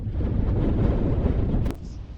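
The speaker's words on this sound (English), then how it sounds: "Super windy along the California Aqueduct" Strong wind along the California Aqueduct roars and buffets the microphone in a low, steady rumble, easing off abruptly near the end.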